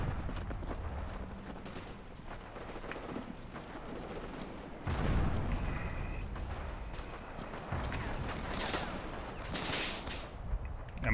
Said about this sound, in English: Am I being shot at by my own guys, or why is that coming from behind?